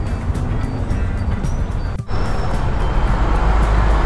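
Dense road traffic in Manila, with a loud, constant roar of cars, buses and trucks close by. A brief dip in the noise breaks the flow partway through. No one speaks.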